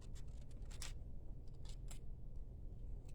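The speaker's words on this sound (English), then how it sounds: "I'm just going to fussy cut this off." Scissors fussy-cutting paper for a handmade Christmas card, several short soft snips in quick bursts over a steady low hum, no talking.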